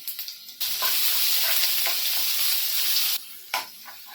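Mustard seeds, cumin and coarsely ground ginger-garlic paste hit hot oil, bursting into a loud, steady sizzle that runs for a couple of seconds and then cuts off abruptly, followed by a brief sputter.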